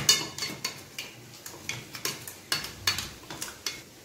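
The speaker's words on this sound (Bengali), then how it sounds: "তো আমি এখানে জিরে গুঁড়োটা এর মধ্যে দিয়ে একটু নেড়ে নিচ্ছি।" Cumin powder being stirred into a cooking mutton curry, a spoon scraping and clinking against the pot in a steady rhythm of about two strokes per second, close and fairly quiet.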